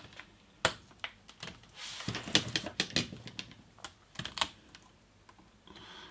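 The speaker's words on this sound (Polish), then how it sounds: "Zdejmiemy sobie teraz klawiaturę." A laptop keyboard is pried off during a laptop case replacement, giving a close, irregular run of sharp plastic clicks and snaps, some in quick clusters and others spaced apart.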